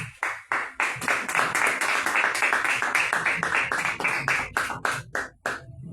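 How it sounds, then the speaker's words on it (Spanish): A church congregation claps steadily for several seconds, a dense burst of applause with sharp individual claps standing out, fairly close and loud. "Denle un fuerte aplauso a Cristo, hermano."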